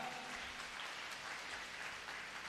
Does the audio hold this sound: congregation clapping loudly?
yes